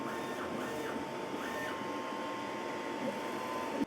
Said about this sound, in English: I think I'm just going to do another head cleaning and run another nozzle check